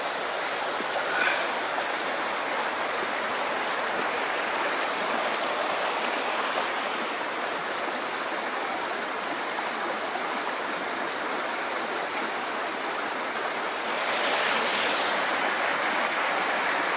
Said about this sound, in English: It's all flowing into the Wye. I'm not sure what brook it is